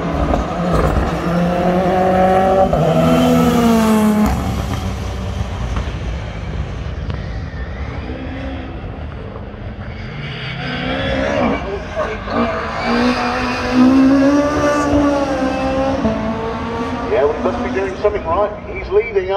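A rally car engine roars loudly and continuously as it races through a stage at Cadwell Park, revs rising and falling with gear changes, while a commentator talks over it throughout.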